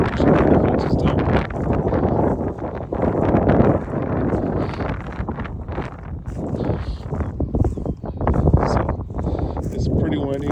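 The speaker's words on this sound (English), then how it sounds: "It's pretty windy and it's raining" Strong wind buffets and roars against the microphone in heavy low gusts, rising and falling throughout, on a rainy pasture.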